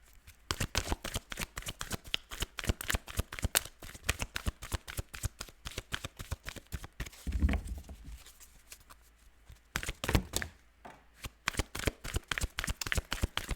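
A deck of tarot cards is shuffled continuously at close range, a long run of crisp, rapid riffling bursts with a few short pauses, quiet and heard alone.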